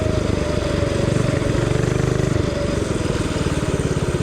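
Motorcycle engine running steadily at close range while the bike is ridden on wet roads, a continuous loud rumble with a fast regular pulsing throughout and no voices.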